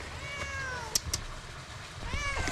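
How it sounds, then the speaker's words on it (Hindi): A fat cat meows close by, one drawn-out meow and then a second starting near the end, with a couple of sharp clicks between them and faint background noise. "वो मोटी सी बिल्ली, ये देखो स्टुअर्ट लिटिल की बिल्ली"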